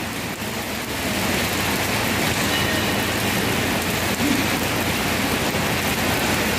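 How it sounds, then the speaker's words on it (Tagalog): Steady, heavy overnight rain in Saudi Arabia pours continuously, a dense hiss of drops on surfaces close by with no voices. "Ulan na ulan."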